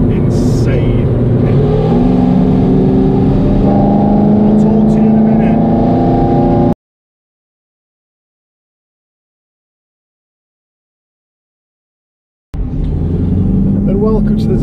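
The supercharged 6.2-litre V8 of a 2018 Camaro ZL1 revs loudly up and down, close and dominant, cutting to silence midway before another burst of engine roar returns.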